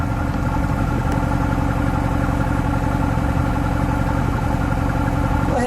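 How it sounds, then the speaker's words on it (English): A red 2011 Mercedes-Benz SLS AMG Gullwing idles up close with a steady, even, throbbing rumble that stays at one loudness throughout. The engine sounds alone, with no talk. "we'll let it idle for just a second"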